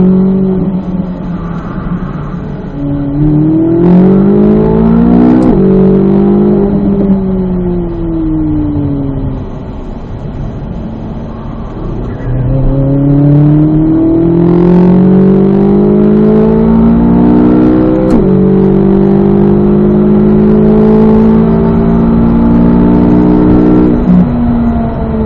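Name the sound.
Corvette Z06 race car driving hard on track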